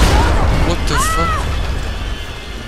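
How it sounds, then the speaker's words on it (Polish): A thunder strike in the Tomb Raider video game arrives as a deep, loud rumble that stays heavy throughout, with a short mid-pitched cry near the start and a slow fade toward the end. "Piorun jebnął."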